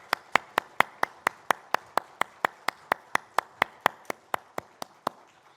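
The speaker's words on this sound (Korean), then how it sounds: "하나님께 영광의 박수 올려드리겠습니다." A church congregation claps in unison at a Sunday service, about twenty sharp, evenly spaced claps in a steady rhythm, fairly close and clear with no talking over them.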